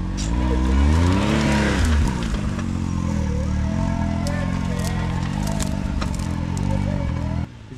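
A Can-Am off-road vehicle climbs a steep hill, its engine revving hard and rising in pitch before settling into a steady strained drone, while people talk and exclaim nearby.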